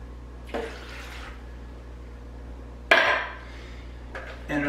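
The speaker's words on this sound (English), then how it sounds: "And the water." Water poured into a blender jar over bananas, frozen berries and frozen cherries for a smoothie, heard as a short splashing pour with light clinks, near and alone with no talking.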